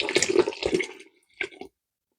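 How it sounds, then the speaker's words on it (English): Vinegar is poured into a pot of hot milk for farmer's cheese, a short splashy pour that stops, followed by a brief second trickle. "And now I'm going to add the vinegar."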